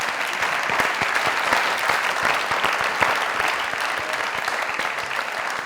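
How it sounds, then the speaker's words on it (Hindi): A studio audience at a Pakistani comedy talk show breaks into loud, sustained applause, dense and continuous clapping throughout with no talking over it. "जोरदार ताली।"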